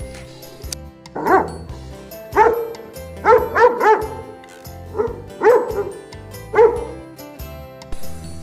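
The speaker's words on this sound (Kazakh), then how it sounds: "Ит үреді." A dog barks in short, spaced bursts, about seven yips and woofs, clear and close, with a single bark or quick doubles each time.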